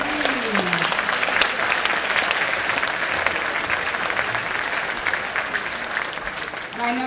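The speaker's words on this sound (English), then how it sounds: "Let's give another round of applause to all of them, please." A school concert audience in a middle school gives a round of applause, dense steady clapping that fills the room throughout, with a brief voice heard faintly at the start and end.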